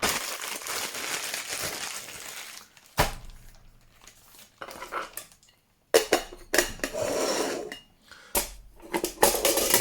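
Pots of a Trangia 27 camping stove set being handled, with bursts of metallic clinking, scraping and rattling separated by brief quiet gaps, close up and without talk.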